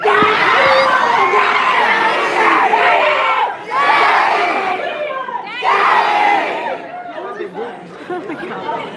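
A large convention crowd at a Resident Evil panel at MegaCon Orlando shouts back in loud unison, in several bursts of mixed cheering and yelling voices that rise, dip and surge again.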